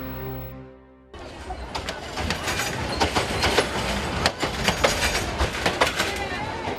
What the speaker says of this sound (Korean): 양곤을 한 바퀴 도는 순환열차입니다.